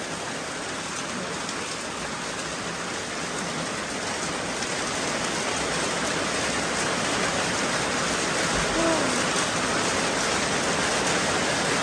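Heavy rain pours down in a dense, steady hiss that stays constant and loud throughout, with no voices.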